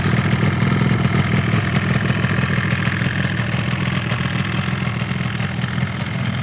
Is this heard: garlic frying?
no